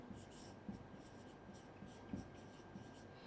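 Chalk or marker writing on a board during a maths class, faint scratchy strokes tapping in a loose rhythm beneath a low, steady background hum.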